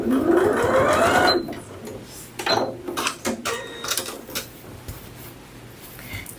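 Sewing machine stitching a seam on a fabric cooler bag, with a quick rising whir of rapid stitches for about a second, followed by scattered clicks and handling taps as the fabric is adjusted.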